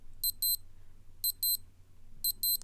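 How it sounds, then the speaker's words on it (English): A Casio DBC-32 Databank digital watch sounds its alarm test, three sets of paired high electronic beeps in an even rhythm, close up and clear over faint background hiss. "I'm going to put my microphone next to the actual alarm so you can hear it."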